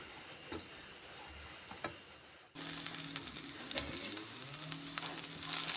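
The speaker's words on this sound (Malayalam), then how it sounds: "ഇനി വെണ്ടയ്ക്കനെ വറുത്തെടുക്കുക" Quiet at first, then a loud, steady sizzle of okra frying in hot oil starts abruptly and keeps crackling close by over a low hum.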